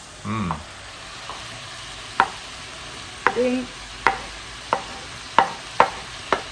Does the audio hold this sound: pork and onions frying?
yes